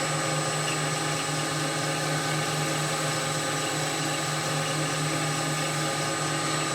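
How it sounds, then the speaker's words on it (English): A steady, droning motorized whir with a constant hum, like a spinning buffing wheel running continuously against the bottom of a wooden box. "A little buffing here on the bottom."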